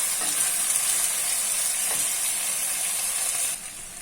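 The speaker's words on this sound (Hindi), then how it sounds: "और अब मैं इसको फ्राई करूँगी।" Pieces of taro root (arbi) frying in oil in a pan, giving a steady, close hiss and sizzle that drops slightly near the end.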